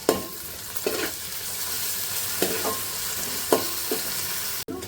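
Ginger garlic paste frying in a pan with onions and green chillies, a continuous close sizzle broken by a few soft stirring scrapes.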